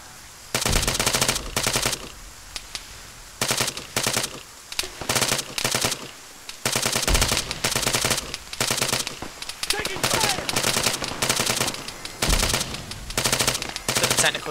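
In the ArmA 3 video game, a volley of rifle and machine-gun fire erupts in repeated loud bursts with short pauses between them, while players talk over radio chatter.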